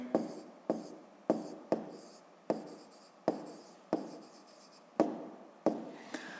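Hand writing on paper during a maths lesson, a run of about ten crisp scratching strokes at a steady pace, close and quiet, no one talking.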